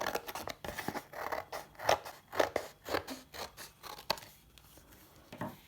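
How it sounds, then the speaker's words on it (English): Scissors snip through card in a series of crisp, close cuts, roughly one every half second, with quiet pauses between. "Then using your scissors, cut along that fold line."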